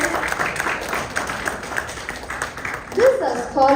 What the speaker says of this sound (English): More energy, please. Give an applause.